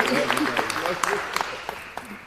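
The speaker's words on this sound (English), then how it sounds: "Give him a round of applause." Applause at a Georgia NAACP Day gathering at the Capitol, scattered, uneven claps from a crowd in a large room, mixed with voices and some sharp individual hand strikes.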